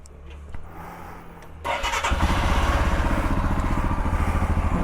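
A motorcycle cold-starts after sitting unused for days: near-quiet, then a sudden crank and catch, settling into a loud, steady, rapid idle thump close by.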